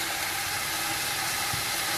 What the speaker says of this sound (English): So whilst the chicken is cooking, I've decided to start frying the onions